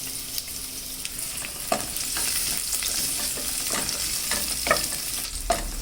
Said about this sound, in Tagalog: let's saute the garlic and onions